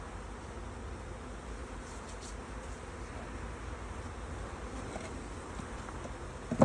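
Bees droning steadily around an open hive at an outdoor beekeeping demonstration, a low continuous buzz with a faint breezy hiss, no talk.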